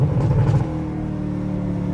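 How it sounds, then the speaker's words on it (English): A Camaro ZL1 in Sport mode on a night drive, its engine droning and revving with a steady mechanical whine from the supercharger, loud and continuous close inside the cabin, with no talking. "never heard the supercharger this loud before."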